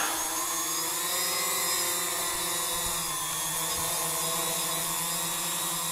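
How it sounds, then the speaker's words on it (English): An UpAir camera drone's motors whir in a steady, loud, high-pitched buzz as it arms and lifts off on a cold mid-February beach on Lake Huron, with no talk over the rotor drone. "we're gonna arm the copter and then we're gonna take it up"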